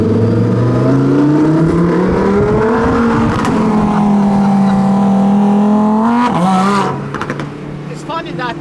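A Lamborghini or Porsche sports car engine revs loud and close, pitch climbing through a long sweep, dropping sharply near the end, then fading as brief voices come in.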